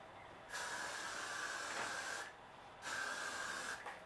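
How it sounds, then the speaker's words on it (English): Hairspray from an aerosol can misted onto the accent strands of a knotted bun, two steady hissing bursts of about two seconds each with a short pause between, close and fairly quiet. "we're going to use the hairspray to keep it shiny."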